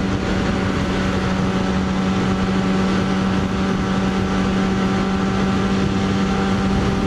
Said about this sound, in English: as you can tell, an aftermarket exhaust. It's quite loud.